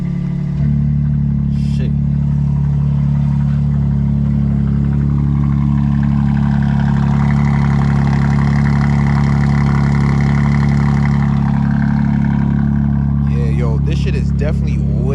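BMW M2 with a catless downpipe and tune and its exhaust valves opened, a loud, deep, steady idle drone close to the mic with a rev swelling in the middle, as someone speaks briefly.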